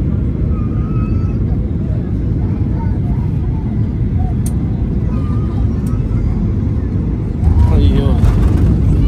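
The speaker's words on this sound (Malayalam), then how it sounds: "ലാൻഡ് ചെയ്തു ഗൈസ്, ഒരു വൃത്തിയായിട്ട ലാൻഡിങ് ആയിരുന്നു അത്." An airplane touches down on Langkawi Island. Steady loud rumble and roar of the plane on the runway fill the scene, with a harder surge near the end and people talking over it.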